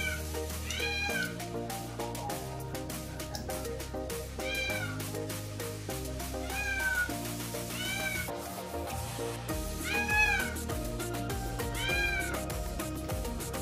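Pet cat Mimin meowing repeatedly, a series of rising and falling meows spaced a second or two apart over a busy background of music or household noise, fairly close and clear.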